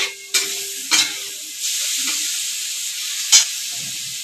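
Chicken for momo filling sizzles in hot oil in a pan, a loud hiss close by broken by a few sharp stirring scrapes and clinks.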